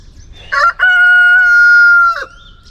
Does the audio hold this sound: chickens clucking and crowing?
yes